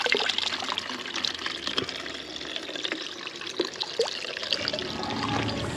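Drinking water runs and trickles steadily from a natural spring spout, a soft continuous splashing with small irregular drips, fairly faint with light outdoor background.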